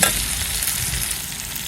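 Chickpeas frying in a pan give a dense, continuous sizzle close by, with scraping stirring strokes mixed in and no voices.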